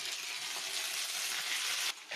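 Ginger-garlic paste sizzles in hot mustard oil with onion and a spoon of sugar, a steady close hiss of frying that runs unbroken before cutting off sharply near the end.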